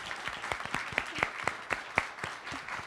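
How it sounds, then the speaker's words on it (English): Audience applause at a women-in-tech power panel evening event, a short burst of scattered, distinct hand claps at moderate volume with no talk over it. "can we please give them a huge round of applause?"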